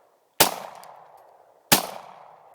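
A Glock pistol fitted with a Lone Wolf conversion fires two sharp, loud shots about a second and a half apart, each with a ringing outdoor decay.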